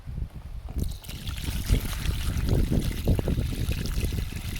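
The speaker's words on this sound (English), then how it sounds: "we're gonna drain this off over into that guy and try and see what kind of sediment's coming out of this thing" Old coolant draining from an abandoned 1985 Mercedes 300CD into a container, a close, steady trickling and splashing stream of liquid that starts after a brief quiet moment and runs on continuously.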